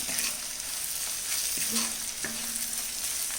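Sliced onions sautéing in a pan on low flame for a Kerala Chinese potato (koorka) upperi with coconut bits, a steady broadband sizzle with a few scraping stirs of a spoon partway through.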